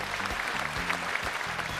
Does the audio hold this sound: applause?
yes